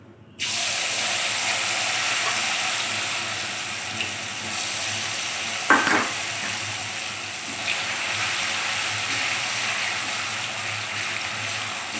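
Steady broadband sizzling of potato peels frying in hot oil, continuous and fairly close, with a brief clatter near the middle.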